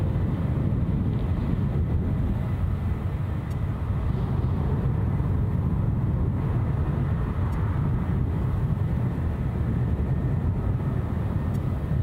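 An airliner departs Glasgow International Airport, its low, broad engine roar steady and loud throughout, filling the air without pause or voices.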